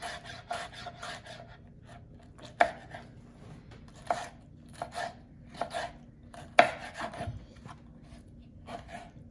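A knife chops potatoes on a cutting board in a home kitchen, sharp irregular knocks coming in quick bursts with scraping between them, close and fairly loud, no voices.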